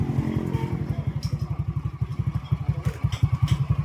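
A Yamaha Mio i 125 scooter with a big radiator runs at max speed, its engine giving a loud, close, rapid train of regular thumping pulses that continue evenly from start to finish.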